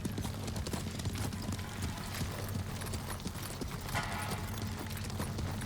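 Horse hooves pounding in a steady clip-clop gallop in the video game Ghost of Tsushima, continuous and fairly close beneath a low ambient bed.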